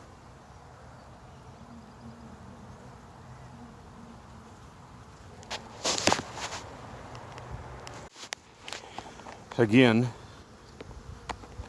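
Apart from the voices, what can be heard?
honey bees buzzing at an open hive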